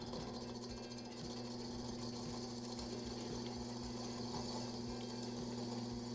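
A lathe trims the edge of a metal spinning with a continuous, loud, grinding and buzzing hum that holds steady throughout without breaks.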